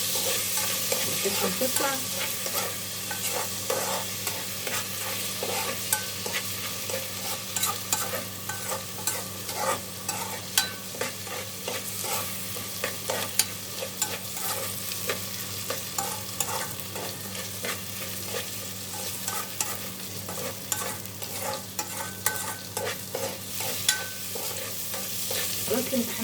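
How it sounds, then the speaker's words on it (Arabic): Food fries in ghee in a pan while being stirred: a continuous dense sizzle with spoon scrapes and soft crackles, steady throughout, with a brief voice speaking. "هقلبهم بقى ايه شويه كده في السمنه لحد ما لونهم يتغير"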